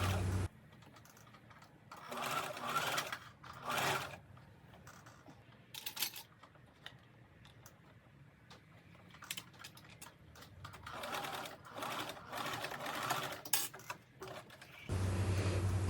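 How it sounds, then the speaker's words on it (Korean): A sewing machine stitches a dress skirt to its bodice, running in several short, quiet bursts separated by pauses, with no talking. "양쪽 끝이 맞았으면 나머지 부분도 봉제를 합니다."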